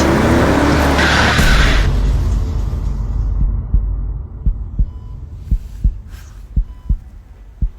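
A car approaches a boy playing in the street and strikes him, a loud roaring rush with a burst of skidding, then a slow series of deep, thudding heartbeat pulses as the noise fades.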